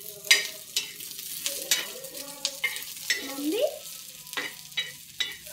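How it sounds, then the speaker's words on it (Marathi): Onion sautés in a little oil for a Maharashtrian black-masala cluster-bean curry, with quiet, intermittent spatula scrapes and stirs over a soft, low sizzle close by. "आता कांदा छान परतून घेऊ."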